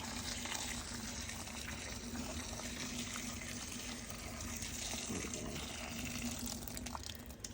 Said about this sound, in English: So we add the boiling water to the fruit